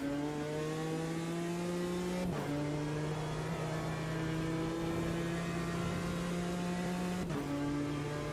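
Race car engine in Automobilista 2 on overrun, a steady loud droning tone with crackling roughness and two brief dips as gears change, continuous and close.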